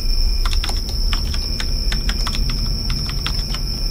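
Rapid clicking keystrokes on a computer keyboard during a horror investigation game, steady and close, with a constant high electronic whine and background hum.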